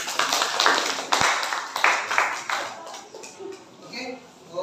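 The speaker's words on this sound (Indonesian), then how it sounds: "Tepuk tangan." Students in a classroom clap their hands together in a short, uneven round that fades out, with voices murmuring underneath and a faint tap partway through.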